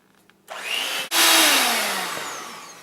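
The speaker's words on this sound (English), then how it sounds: "12 ounces of cream cheese. Okay, and mix it really well." An electric mixer whirs into cream cheese for a berry cake, starting loud after a brief pause and a quick stop-start, then running as a steady high motor whine that slowly drops in pitch.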